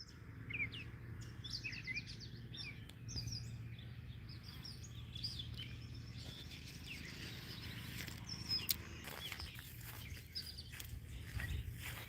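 A songbird outdoors on a fine day repeats bright, quick chirping phrases at moderate distance, with soft background hum and a few faint footsteps or rustles, and no one speaking.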